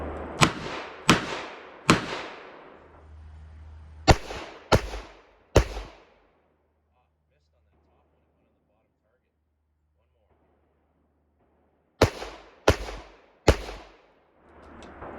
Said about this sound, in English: so starting off with the Smith & Wesson Military and Police